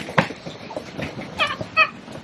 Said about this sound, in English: the chickens are being weird.